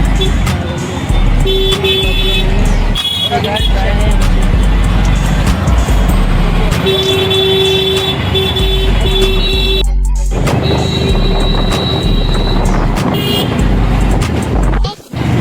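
Congested road traffic rumbles steadily, with car horns honking several times and indistinct voices mixed into the noise.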